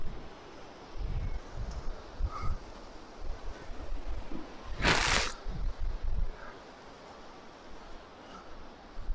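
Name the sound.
wind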